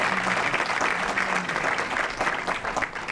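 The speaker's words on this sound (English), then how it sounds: "So let's give them a round of applause." An audience at a school district Black History event gives a round of applause, a steady wash of many hands clapping with faint crowd murmur underneath, then easing slightly toward the end.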